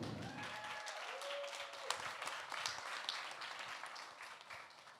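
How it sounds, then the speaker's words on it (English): Warm round of applause from a book club audience welcoming author India, a crowd of hands clapping steadily at moderate distance, with a brief tonal squeak early on and the clapping thinning slightly toward the end. "We'll give a warm round of applause to India."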